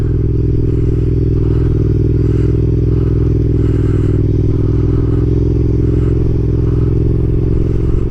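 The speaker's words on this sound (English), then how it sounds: "Motorcycles are the way." A Yamaha MT-07 motorcycle cruises on a highway with a steady, loud engine drone mixed with heavy wind roar, continuous throughout without talk.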